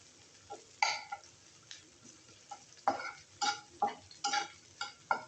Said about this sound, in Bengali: পেঁয়াজটা একদম হালকা করে ভেজে নেব, বেশি ভাজবো না।